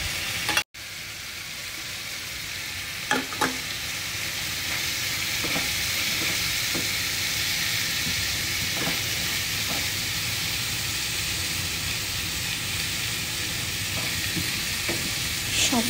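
Dal with chopped carrots and cucumber sizzling in a pan as it is stirred, a steady close hiss of frying with occasional scrapes and clicks of the spoon, running continuously without talk.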